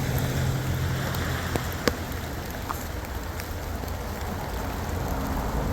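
Steady rain falls on a winter hike along the Appalachian Trail, a dense continuous patter with a couple of sharper drips, close and unbroken, with no voices.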